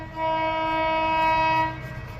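A GBRF Class 66 diesel locomotive sounds its two-tone horn while passing Rugby on the West Coast Main Line, a loud, steady, buzzy blast of about one and a half seconds over rumbling rail noise, then fading.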